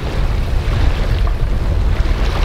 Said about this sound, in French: petit vent qui s'est levé là